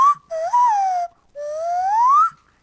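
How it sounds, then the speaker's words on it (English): A person plays their nose like a slide whistle at an open mic, giving two clear, loud whistled tones that glide up and down in pitch with a short gap between them. "It's a whistle, just like those slide whistles"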